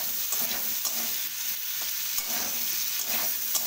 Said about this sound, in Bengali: এবার ভালো করে নেড়ে ছেড়ে একটু লাল লাল করে আলুগুলোকে কপির মতো ভেজে নিচ্ছি।